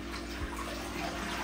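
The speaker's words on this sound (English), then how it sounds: "we need to fill our bowl with water" Water runs from a tap into a bowl for a sink-or-float experiment, a steady close splashing rush throughout.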